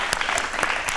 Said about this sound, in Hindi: मैं चाहता हूं हम सब लोग एक बार इनके लिए भी तालियां बजाएं